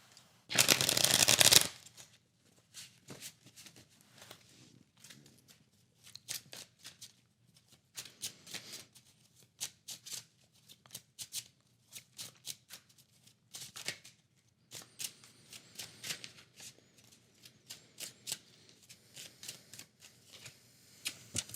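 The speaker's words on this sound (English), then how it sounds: "Let's pull some cards." Tarot deck being shuffled close up: one loud riffle burst at the start, then a long series of soft, quick card flicks and slides in short irregular bursts, alone without talk.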